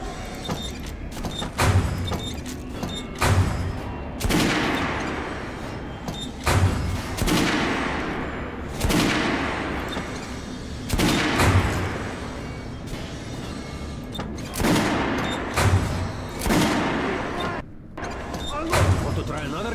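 Gunfire on a firing range in Metro Last Light Redux: about ten sharp, loud shots at irregular intervals, each followed by a decaying ring, over a steady background din.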